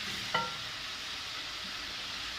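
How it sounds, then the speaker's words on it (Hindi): Chicken deep frying in oil for a white chicken karahi, with a steady, dense sizzle held close throughout and one brief clink of a utensil early on. "डीप फ्राई करना है इसे"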